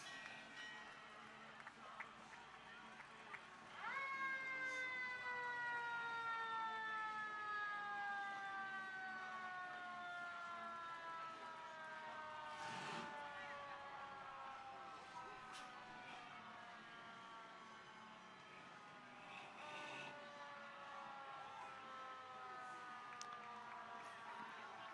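Folsom Fire Department fire trucks roll through a hometown parade with sirens wailing, a distant steady rising and falling siren that swells a few seconds in and carries on under faint crowd noise.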